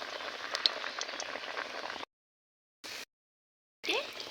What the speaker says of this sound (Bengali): এবারে আমি লাউ পাতাটা চুবিয়ে তেলে ভেজে নেব।